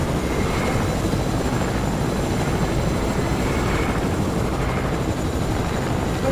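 A helicopter in the Fortnite video game keeps up a steady, dense rotor drone with a faint rhythmic chop, heard close and at constant loudness with no talking.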